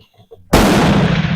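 A single loud, close rifle shot from a Bren MK2 at a shooting range, a sharp blast followed by a long booming decay, after some faint low murmuring.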